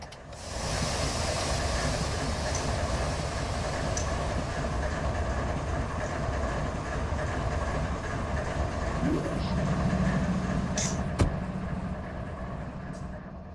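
Continuous rolling rumble of a freight train in the Run 8 Train Simulator game with a steady mechanical hum, moderately loud throughout, with a sharp click near the end.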